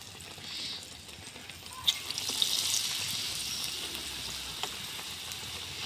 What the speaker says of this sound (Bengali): তেলটা গরম হয়ে গেছে তো তেলের মধ্যেই আমি দিয়ে দিয়েছি।